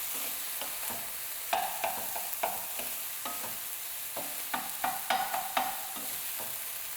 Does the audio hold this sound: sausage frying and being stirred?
yes